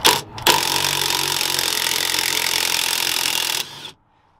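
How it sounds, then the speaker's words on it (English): A pneumatic impact gun on a shock bolt of a 2014 Ford Mustang GT gives a brief burst and then one loud, steady rattling whir of about three seconds before cutting off, close by and on its own. "Whereas I just have an impact gun, so all it takes is me just going,"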